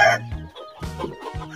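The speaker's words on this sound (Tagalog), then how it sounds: "So ito mga kabakyard yung mga sisiyo." Two-week-old chicks in a backyard coop give a few short, close calls in quick succession, with brief gaps between them.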